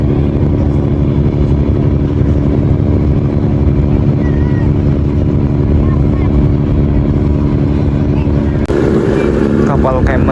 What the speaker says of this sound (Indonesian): Kapal KM Marina Bay-nya udah bergerak perlahan sisi kiri untuk keluar dari pelabuhan Manado nih